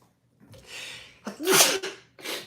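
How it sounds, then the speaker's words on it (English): A close sneeze bursts out after a short, sharp intake of breath, followed by a quieter breathy exhale. "I'm sneezing now."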